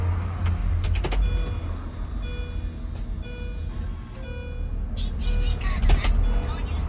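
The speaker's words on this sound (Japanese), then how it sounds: "今のウィーンっていう音が燃料ポンプの音です" A thin electric whir from a Mini Cooper S fuel pump, located under the rear seat, rises and drops in short bursts inside the car as the key turns to accessory, with faint background hum and a few soft clicks.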